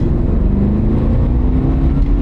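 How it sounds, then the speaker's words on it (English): A big Chevy V8 in a heavy vehicle revs steadily under throttle, a loud, continuous low engine roar with rumbling harmonics that holds for the whole stretch. "Nice sounding V8."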